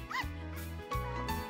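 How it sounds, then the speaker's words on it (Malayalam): Dogs of several breeds, a Great Dane, a Spitz and a Labrador, bark close by in a short loud burst, deep woofs mixed with a higher yip, with a brief whine near the start. "നായ്ക്കൾ സ്നേഹമുള്ള കൂട്ടുകാർ തന്നെ. ഗ്രേറ്റ് ഡെയിനും സ്പിറ്റ്സും"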